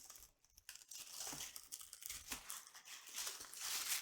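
Paper and packing filler crinkle and rustle as a watercolor subscription box is unboxed, a continuous close, soft crackling with brief tearing-like bursts and no talk over it.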